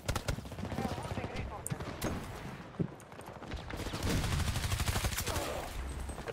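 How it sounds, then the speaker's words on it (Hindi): Rapid gunfire from the Battlefield video game crackles in dense bursts throughout, mid-distance and fairly loud, with a short lull partway through before heavier fire resumes. "सा गोली चलाया?"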